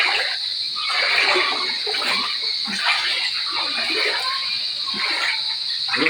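Water splashing and sloshing in a swimming pool, a continuous broadband wash of splashes and trickles with irregular surges, fairly close and steady throughout.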